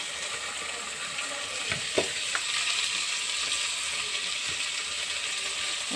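Onion, green chili and curry leaves fry in hot oil for spinach masala rice, giving a continuous close sizzle with a few sharp pops and stirring clicks.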